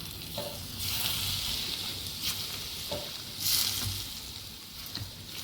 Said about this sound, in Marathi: हे बघा, असं सर्व एकत्र परतून घ्यायचं आहे आपल्याला.